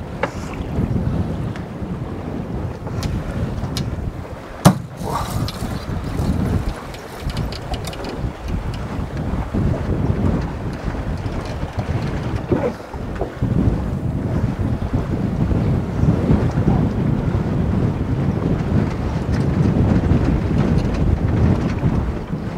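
A sailboat sailing fast with the jib unfurled, heavy wind roaring across the microphone with rushing water and waves along the hull, one sharp knock midway, constant and loud throughout.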